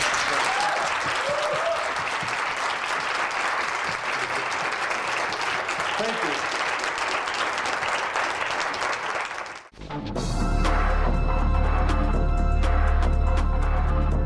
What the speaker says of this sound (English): How about a round of applause for you?